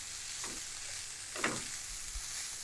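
Leftover rice, brown or white, stirred through in a hot pan, with a steady close sizzle of frying under two scraping strokes of a spoon, and no voices.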